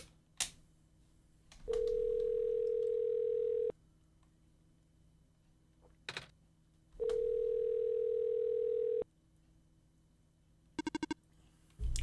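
Phone ringing unanswered in the video game OneShot: two long, steady electronic rings separated by silence, each set between sharp clicks, ending with a short burst of rapid beeps.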